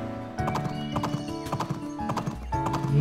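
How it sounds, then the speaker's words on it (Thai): Horse hooves in the farming video game Doraemon Story of Seasons, a steady run of close clip-clop hoofbeats over layered game music, with no talking. "ไม่ว่าจะอยู่ตรงไหนเสียงม้าก็ไม่เคยเปลี่ยน"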